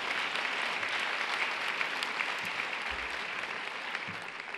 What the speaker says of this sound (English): I want to give Judge Flynn a great round of applause